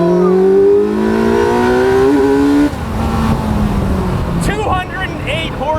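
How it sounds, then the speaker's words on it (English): A loud 1441cc, 208-horsepower Kawasaki motorcycle engine in a 2025 T-Rex RR three-wheeler revs with rising harmonic pitch, then drops to a rough rumble as a voice speaks over it. "208 horsepower from a 1441cc Kawasaki motorcycle engine that's directly behind us"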